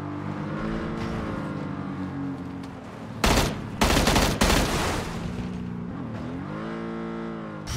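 Bursts of rapid gunfire erupt in PUBG amid a droning engine hum, with a couple of loud volleys in the middle before the engine tone returns.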